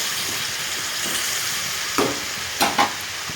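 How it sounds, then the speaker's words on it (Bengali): Broccoli, soybean chunks and potatoes fry together in a pan with a steady, soft sizzle, broken by a few brief stirring clatters near the end, and no talking. "তো একসাথে আমি ব্রকলি আর সয়াবিন আলু দিয়েছি তো তোমরা চাইলে আলাদা আলাদা করে ভাজতে পারো"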